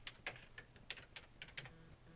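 Fingers tapping on a computer keyboard while an email is composed, a quiet run of irregular clicky keystrokes in small clusters, close and unaccompanied by speech.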